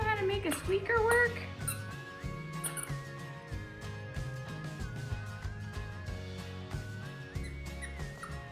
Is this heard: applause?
no